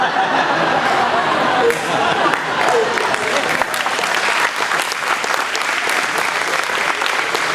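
An audience at a San Clemente fishing club show in 2015 bursts into sustained applause, a thick continuous wash of clapping with scattered chuckles and chatter mixed in throughout.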